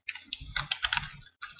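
Rapid keystrokes clatter on a computer keyboard in quick, uneven bursts, close to the microphone, with a brief pause before a final few taps.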